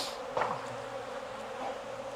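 Honeybees hum softly around an open hive, a low steady drone with individual bees buzzing past close by.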